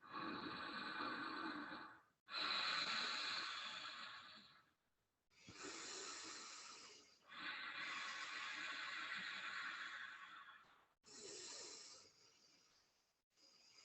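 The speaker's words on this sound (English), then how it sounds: "Long, slow, deep breathing." Long, slow, deep breaths during a kundalini yoga breathing exercise, heard as a run of airy inhales and exhales, each lasting a couple of seconds and separated by brief pauses, close and steady with no talking.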